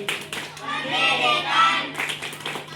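Primary school children at a Halal Bihalal gathering clap their hands in a group chant. Bursts of rhythmic claps open and close the moment, with a sung chant carried between them.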